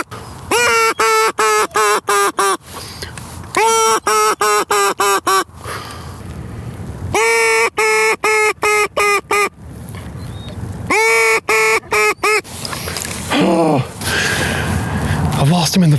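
Geese and ducks flying in through fog on a duck hunt, honking in loud, rapid repeated bursts in several close waves, with wind noise and a person speaking between the calls.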